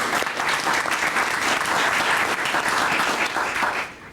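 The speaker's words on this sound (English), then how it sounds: "Let's give him a round of applause." Audience at an awards ceremony honoring a superintendent applauds in a steady, dense burst of clapping that holds for about four seconds before tapering off, with no talking over it.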